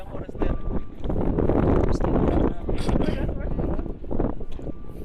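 Steady wind buffeting the microphone, a broad low rumble that persists throughout with a few gusty surges, alongside voices speaking.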